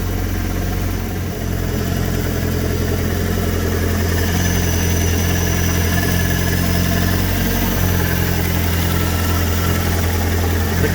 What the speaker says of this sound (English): I've heard a lot worse engines than this